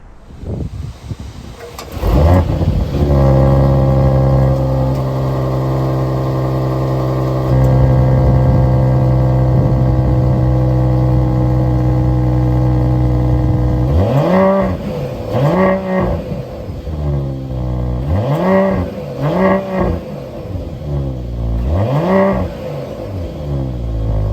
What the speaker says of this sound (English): an awesome quad exhaust tip AMG exhaust